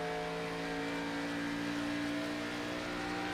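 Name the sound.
race car engine in iRacing video game, Xfinity Series at Pocono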